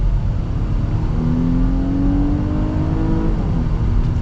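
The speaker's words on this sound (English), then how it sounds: "I love the sound of that V6" Inside a 2022 Nissan Pathfinder SL, the V6 engine pulls hard under full acceleration, a low steady roar with a smoothly climbing pitch and no gear breaks, close and loud.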